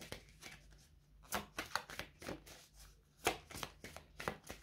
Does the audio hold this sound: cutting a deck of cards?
yes